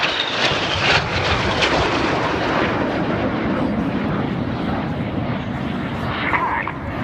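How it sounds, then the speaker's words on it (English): Red Arrows jet aircraft roaring past at an air show, a loud, broad, continuous rumble with crackling bursts that stays strong throughout, heard in the open air with no talking. "Now these 4 aircraft are closing at 800 miles an hour."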